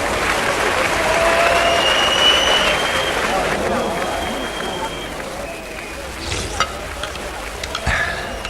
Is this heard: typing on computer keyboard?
no